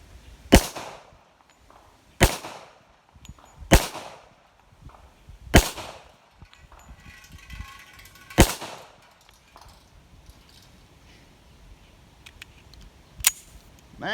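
A Rock Island Armory M1911 pistol fires about seven sharp, loud shots at irregular intervals of one to three seconds outdoors, each crack followed by a short echoing decay and quiet between.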